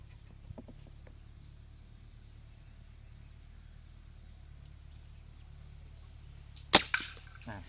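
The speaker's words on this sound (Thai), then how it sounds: "เดี๋ยวยิงอีกสักนัดหนึ่งนะครับนัดสุดท้าย" An 8 mm PVC pressure air gun fires a single sharp shot near the end at close range, followed by a brief rattling echo, after a long stretch of quiet outdoor background hum.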